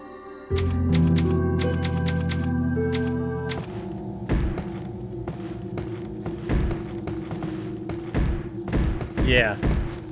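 A typewriter in the Resident Evil 4 remastered video game: rapid mechanical key clacks over a sustained musical tone, followed by heavier thumping footsteps and impacts, with someone talking over the game audio.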